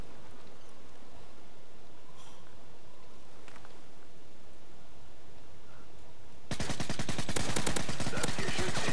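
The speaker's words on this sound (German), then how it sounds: "ich hab blind rumgeschossen" Rapid automatic gunfire in the Call of Duty Modern Warfare 3 video game bursts in loudly after several seconds of low game ambience, a fast continuous rattle of shots that runs to the end.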